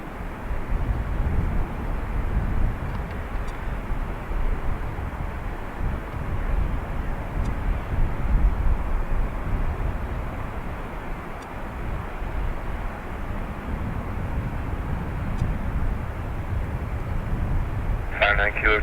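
A plane taking off from runway 2 right at Dublin Airport gives a loud, continuous low roar that holds steady throughout.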